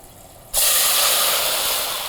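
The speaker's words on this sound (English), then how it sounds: "you're going in now with alcohol, which is you're going to hear that sizzle" White wine hits a hot pan for chicken francese with a sudden loud hiss that erupts after a short quiet moment and holds steady, fading only slightly over two seconds.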